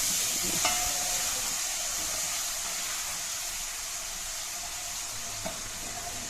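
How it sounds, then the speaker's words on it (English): A pepper mix frying in oil for Arabian fried beans makes a steady, dense hiss and sizzle throughout, close and even, with a couple of faint clinks and no speech. "make sure you fry the pepper till you can see it is done"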